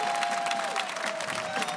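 Theatre audience at the London Palladium clapping in a brief, dense burst of applause with a faint sustained tone running underneath.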